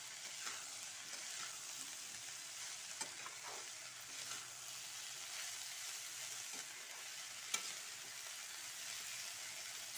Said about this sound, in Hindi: और हम हरा धनिया डाल देते हैं। इसको हम मिक्स कर लेते हैं।